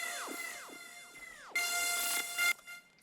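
A bright, buzzy synth lead called Humble, from the Shadow Hunted Sound Kit in FL Studio, plays alone: repeated tones swooping downward in pitch, then a denser sustained burst and a short tail.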